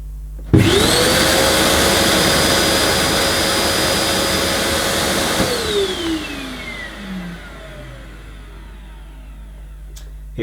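A Moulinex Powerstar cylinder vacuum cleaner with an Italian-made Amtech motor starts with a thump, whines loudly and steadily, then is switched off and spins down with a falling pitch into quiet.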